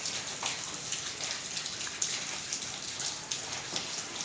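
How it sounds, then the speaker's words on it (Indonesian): Rain falling and dripping onto surfaces outdoors, a steady soft hiss with scattered close droplet taps throughout, fairly quiet and with no talking. "Ya udah hujan lagi dah."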